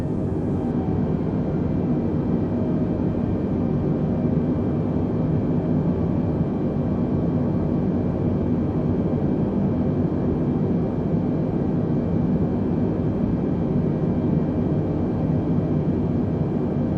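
Jetliner engines spooling back to reduced thrust during descent in Microsoft Flight Simulator, a steady broad roar that holds level and close throughout, with no voices.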